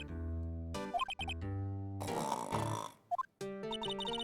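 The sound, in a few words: person imitating snoring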